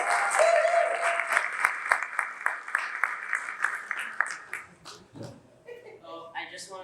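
An audience applauds warmly to welcome a speaker at an evening event, steady clapping from a fairly large crowd that thins out toward the end as a voice begins to speak.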